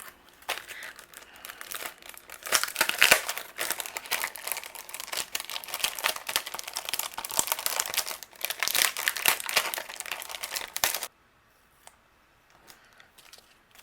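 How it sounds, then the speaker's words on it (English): A die cutting machine runs paper through for a floral card, giving about eleven seconds of dense crinkling, crunching and clicking, fairly loud and close, before stopping abruptly into near silence with a few faint ticks. "Now is the fun part, where we get to do a little bit of die cutting."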